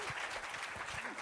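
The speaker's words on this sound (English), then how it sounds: "If we can give a round of applause to Karen and Richard." A conference audience at an education panel gives a round of applause, heard as faint, even, continuous clapping throughout the short stretch.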